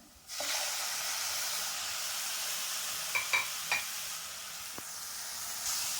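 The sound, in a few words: tomatoes sizzling as they are added to hot oil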